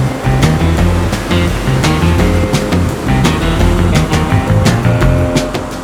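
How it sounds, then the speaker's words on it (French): Ocean waves break at a New Zealand surf spot, peeling off to the left or right. The surf roars loudly and steadily for the whole stretch, a dense continuous wash with no voices. "Ici, les vagues ouvrent et se déroulent en gauche ou en droite."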